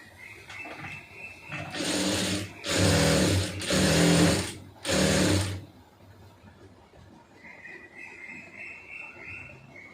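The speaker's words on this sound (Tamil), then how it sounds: "இப்போ இதில் வந்து நம்ம ஓரத்தில் வந்து தையல் போட்டுடலாம்" A sewing machine runs stitches along a fabric edge in four quick, loud whirring bursts separated by short pauses, close up, with quiet room noise before and after.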